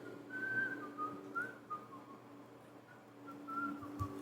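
A person whistles a soft, wandering tune in short phrases with small pauses between them, faint and close, over a low room hum.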